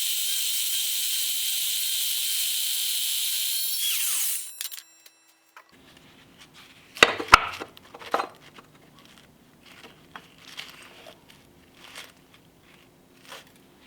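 An Evolution R255 sliding miter saw makes a loud, steady cutting whine through square 095 steel tubing at a 45-degree angle for about four seconds, then stops abruptly, followed by scattered clunks and light handling noises.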